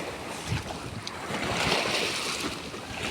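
Sea waves growing stronger along a shore, a broad continuous wash of surf with wind buffeting the microphone, steady and close with no voices.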